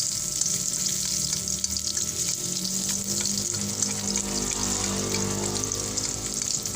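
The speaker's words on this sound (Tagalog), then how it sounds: "Halo-haloin natin mga kakusin." Pork for Bicol Express sizzles loudly and evenly in a pan as it is stirred, a dense close frying hiss with faint scraping and no talk.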